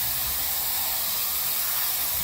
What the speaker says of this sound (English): I'm spraying lacquer thinner right here